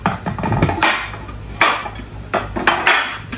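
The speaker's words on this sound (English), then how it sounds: "I hate to hear glass clank together." Glass Pyrex dishes clank and clink against each other as they are stacked on a kitchen shelf. The sharp knocks come in irregular bursts with short gaps between them, up close, and no one speaks.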